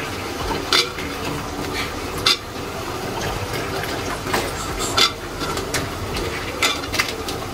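Pakon pitha cakes being put one by one into syrup to soak, with steady liquid sloshing and a few sharp clinks of a utensil against a pot.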